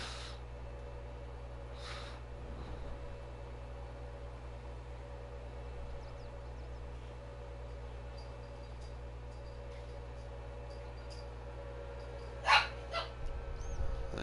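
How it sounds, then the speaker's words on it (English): A farm dog in the Farming Simulator 22 game barks a few times, in short bursts near the end, over a low, steady engine hum that runs throughout. "So sorry about that barking in the ears"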